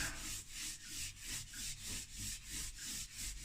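Charcoal and chalk pastel rubbed smooth across a landscape drawing on paper, a steady rhythmic back-and-forth scrubbing of about nine or ten even strokes, close and continuous with no talk.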